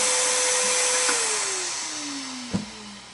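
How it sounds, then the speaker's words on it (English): Vacuum cleaner used as a suction rig for cleaning a single-shot New England Firearms Pardner shotgun barrel, a steady loud whine and rush of air that slowly drops in pitch, with a brief knock near the end. "all that dirt and crud just goes right into the vacuum"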